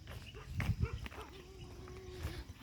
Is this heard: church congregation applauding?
no